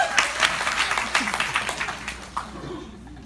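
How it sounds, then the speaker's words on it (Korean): Audience applause at a business seminar, a few seconds of fairly close, uneven clapping that thins out toward the end, with some low talk underneath. "박수 부탁드립니다"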